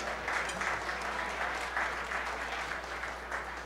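An audience at a big band swing show applauds the bandleader, a full continuous wash of clapping that holds at steady loudness for several seconds.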